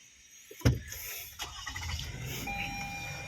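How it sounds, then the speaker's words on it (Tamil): A parked vehicle's engine cranks with a sharp click and a loud catch, then settles into a low, steady idle nearby, with faint tones over it. "வண்டி ஸ்டார்ட் பண்ணிடலாம்."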